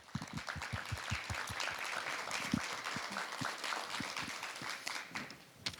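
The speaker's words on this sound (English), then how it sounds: "let's give a great applaud to our panelists for being here tonight with us" A small audience claps for panelists after a diversity, equity and inclusion discussion, with distinct, fairly sparse individual claps standing out against a steady background of clapping, moderately loud and without talk.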